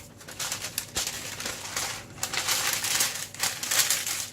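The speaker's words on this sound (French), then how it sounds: "je vais mettre du papier cuisson" Baking parchment paper crinkles and rustles steadily as it is pressed into a round cake tin of about 20 cm for a tres leches cake, a continuous close papery crackle with no talk.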